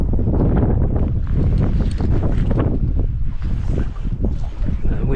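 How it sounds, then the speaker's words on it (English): Strong, steady wind roars and buffets the microphone on a boat while fly fishing in the shallows, a loud continuous rumble with gusty surges and no clear talking. "The wind's freshening, so that's making it almost impossible to cast across the wind."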